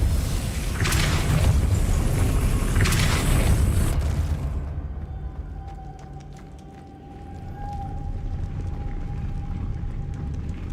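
Depulso spell blasts cast in Hogwarts Legacy on PS5, loud booming bursts with crackling decay over the first few seconds, then a quieter hum with a steady tone and scattered clicks.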